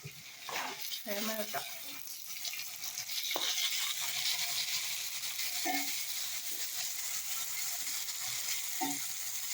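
Chopped tomatoes with ginger-garlic paste sizzle and fry in a pan for a Saudi-style egg dish, a steady close crackle with occasional stirring scrapes and a voice talking over it.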